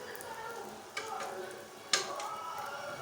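Egg ponganalu frying in a ponganalu pan as they are turned, with a steady sizzle and two sharp scrape-clicks from the turning tool; close, no talking.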